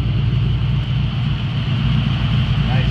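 A 1985 Chevrolet C10 truck with Magnaflow exhaust idles close by, a loud, steady low-pitched rumble that holds constant for a few seconds.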